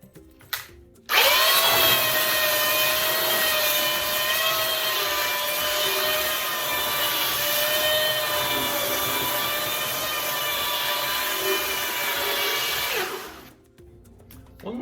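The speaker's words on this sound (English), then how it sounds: "So I'm going to take a belt sander. I'm going to take that down." A belt sander grinds down a raised ridge on a wooden farm table top, starting abruptly into a loud, close, steady motor whine with rough scraping beneath, holding for about twelve seconds before spinning down, no talk.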